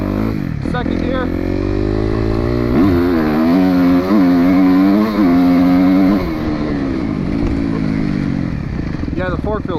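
A Suzuki RMZ250 dirt bike engine pulls hard in second gear, a loud, close four-stroke drone that rises and wavers through revs, with a shift-like dip in the middle and a rider talking over it.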